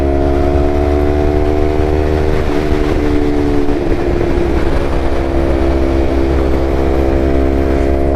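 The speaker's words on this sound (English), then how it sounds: "I'm still impressed with the extra power that it has from the exhaust." A Yamaha R3 motorcycle fitted with an M4 full exhaust cruising on the road, a steady loud droning engine note with a slight pitch dip partway through, mixed with wind rush and no talking.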